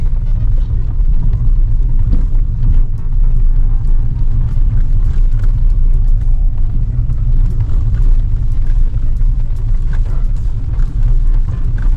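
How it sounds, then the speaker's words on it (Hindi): A Tata Tiago car driving on a rough, broken road, heard from inside as a loud, continuous low rumble of tyres and body, with faint rattles and knocks scattered through and no talking. "रैटलिंग नॉइस चेक गंदी रोड पर देखो।"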